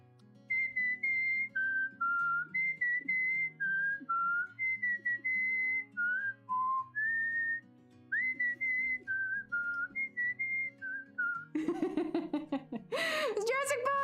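A person whistles the Jurassic Park theme as a clear, melodic tune of sustained notes close to the microphone. The whistling gives way to gasps and laughter near the end.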